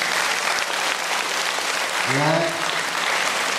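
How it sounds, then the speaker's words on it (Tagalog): Dense applause from a church community gathering fills the space, steady and loud throughout, with a short spoken word from a person rising briefly over it. "pumalakpak nga kayo"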